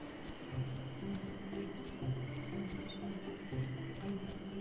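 Birds in Stranded Sails chirp in a few quick, high tweets over a looping ambient background with a low repeating musical hum.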